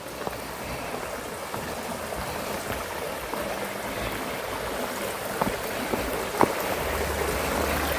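River water flows steadily as a broad, continuous rushing wash at a river crossing, even and moderately loud throughout with a few faint knocks and splashes, no talking.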